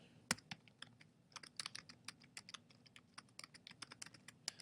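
Typing on a computer keyboard, quiet irregular clicks and taps in quick bursts, close by and without talk.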